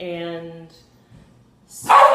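A pet dog at home gives one loud, close bark near the end, after a person has been speaking quietly.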